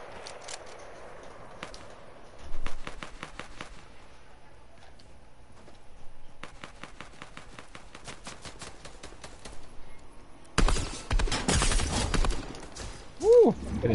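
Gunfire in an online shooter game, several rapid bursts of shots at mid distance spread through the clip, with louder noise and a voice near the end.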